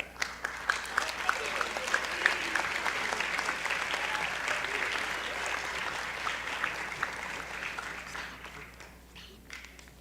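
An audience at a military academy holiday dinner bursts into sustained applause, a dense wash of many hands clapping that holds steady for several seconds before thinning out at the end.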